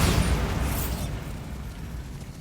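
A Bombarda spell detonates in Hogwarts Legacy, a loud close blast that bursts and then rolls off into a deep, fading rumble over the following seconds.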